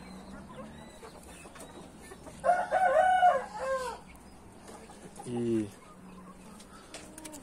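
Naked neck chickens and a rooster on a backyard poultry run, with a loud crow rising briefly in the middle and clucks around it, over a low farmyard background.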